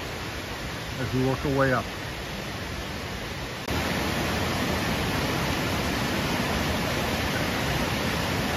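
Rushing waterfall at Cork in Ireland, running high after heavy rain, a steady broadband roar that grows louder partway through, with brief speech near the start.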